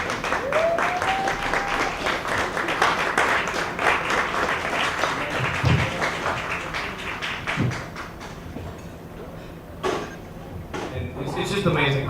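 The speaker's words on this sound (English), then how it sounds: "Round of applause." A room full of people at a luncheon celebration claps and cheers in a sustained burst of applause, fading somewhat toward the end with a few thumps.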